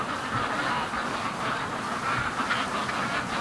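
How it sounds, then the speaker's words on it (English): Free-range ducks rushing home to the lake in a morning run, a steady wash of quacking and honking from the flock mixed with wind noise, dense and continuous with no clear single calls. "Come on, ducks."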